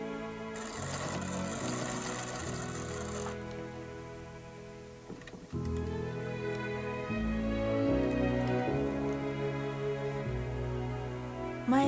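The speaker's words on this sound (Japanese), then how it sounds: "表からスリットに端ミシンをかけます" A sewing machine runs steadily along the edge of a slit in a kimono-remake dress of Omi jofu hemp linen, its mechanical whirring and ticking continuous for several seconds with a brief pause midway.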